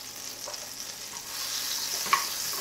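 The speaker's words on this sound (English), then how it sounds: "I have a small pan heating up on the stove on just a little more than medium heat" About two tablespoons of butter melting in a small pan on a stove just above medium heat, a soft steady sizzle that grows slightly louder, with one light clink near the end.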